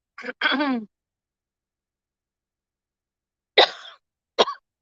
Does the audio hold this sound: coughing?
yes